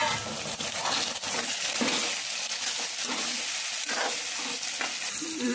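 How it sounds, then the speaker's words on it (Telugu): Ginger garlic paste sizzles and fries in a pan while prawn curry is being made, with a continuous loud hiss broken by occasional stirring scrapes and clinks of a spoon against the pan. "ఇదిగో ఫ్రై అవుతున్నాయి కదా, మరి కాస్త ఫ్రై అవ్వాలి."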